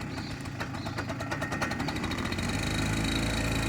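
A small scooter engine is throttled up by a beginner rider, giving a rattly, pulsing buzz that builds and then settles into a louder, steadier drone close by.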